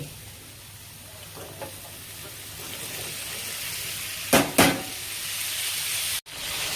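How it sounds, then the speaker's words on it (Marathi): A soft, steady sizzle of vegetables frying in hot tempering oil, with a couple of brief louder bursts and a clink partway through. "चला आपण फोडणीमध्ये टाकूया आता हे"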